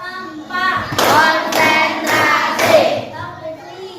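A classroom clapping routine with several rhythmic hand claps in quick bursts, mixed with children's voices chanting along.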